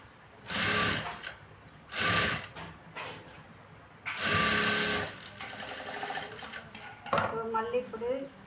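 A sewing machine top-stitching a blouse runs in several loud, close bursts, whirring for about a second at a time with pauses of mechanical clicks and handling noise between runs.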